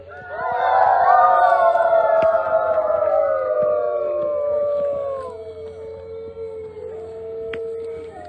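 Several children's voices howl together in long, wavering, overlapping wolf-like cries that swell and slowly fade, a school class mimicking a pack of wolves.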